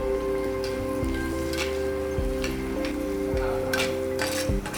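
Tomato pieces frying with onions in a pot over a rustic fire, a steady soft sizzle running throughout beneath a tonal background hum, with no talking.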